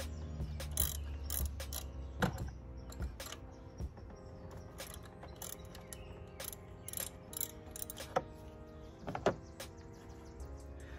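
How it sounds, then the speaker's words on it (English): A 3/8 ratchet works on the spark plugs of a 2014 Dodge Durango Citadel, with quick clicking pawl bursts mixed with metallic clinks and scraping. The sounds are fairly faint and come in irregular spurts. "looks like it's a 3/8. I'm glad I brought one of each. 3/8. Start with this side first."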